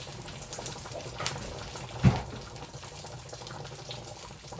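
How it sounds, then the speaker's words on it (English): Hot water poured into a pot with brown gravy mix, a soft continuous splashing trickle with a couple of brief louder splashes, fairly quiet and close, with no talking. "With 2 cups of hot water."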